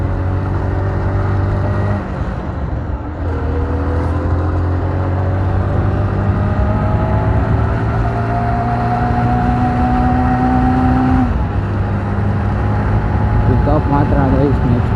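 A Bajaj Pulsar 150 DTSi motorcycle, a 2003 BS1 model, runs steadily while being ridden, its engine note rising and dropping with gear changes and throttle, loud and close under a constant rush of wind.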